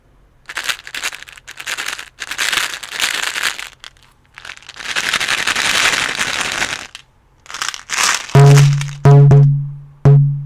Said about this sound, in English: I'm gonna shake these Tic Tacs, okay?